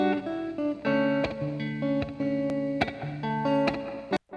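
Electric guitar chords with a delay panned a little further to the left, giving a flowing leftward echo; steady strummed changes with brief breaks, ending in a quick muted stop, with no voices.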